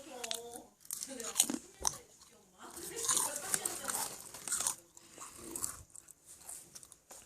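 Crunchy Japanese honey butter potato chips bitten and chewed close to the mic, with intermittent crisp crunches and a brief pause near the end, no talk.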